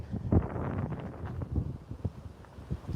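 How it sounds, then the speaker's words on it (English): Wind gusts outdoors in Las Vegas, with an uneven low rumble and buffeting on the microphone, moderately loud and fluctuating throughout. "It's windy in Vegas right now."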